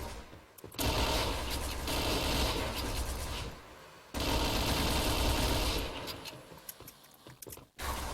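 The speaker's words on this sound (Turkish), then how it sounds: "Çok sıkıyorum sana." Sustained, dense automatic gunfire from the online shooter Point Blank roars loud and close in two long bursts separated by a short gap, with scattered shots near the end.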